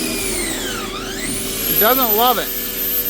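A power tool bit revs up and bores pocket holes into dense beech wood, a high whine sliding down and back up before a strained, wavering burst near the end, with someone speaking over it.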